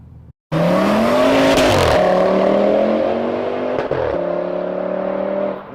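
A powerful V10 engine in a widened family estate car revving hard and loud, its pitch climbing, briefly dropping, then holding a high sustained howl before easing off.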